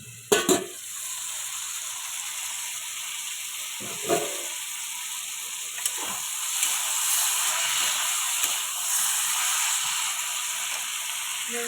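Bottle gourd curry with fish head sizzling in a pan as the lid comes off, a steady soft frying hiss with a few clinks and scrapes of the lid and spoon.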